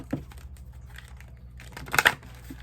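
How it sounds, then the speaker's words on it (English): Tarot cards shuffled by hand in a quiet room give soft papery riffling and flicking, with one louder brisk burst of card snaps near the end. "One last shuffle for the shatter side."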